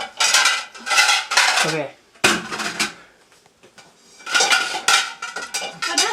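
Dishes, pots and cutlery clatter and clink in loud bursts at a kitchen sink, broken by a short pause; one brief spoken word.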